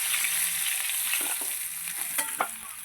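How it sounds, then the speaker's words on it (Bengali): Tengra fish fry in hot oil in a kadai with a soft continuous sizzle, while a spatula scrapes and taps the pan a few times near the end. "এবার যে কটা আছে দিয়ে দিচ্ছি"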